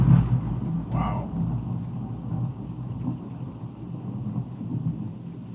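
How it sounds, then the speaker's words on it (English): Thunder rumbles through steady rain, one sharp crack near the start rolling into a low, continuous roar that carries on under the downpour. "That's not a bomb, that's thunder."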